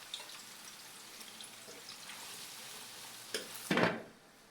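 Chopped onions frying in hot oil for a kofta curry, giving a faint steady sizzle that ends with a brief louder burst of crackling before dropping away.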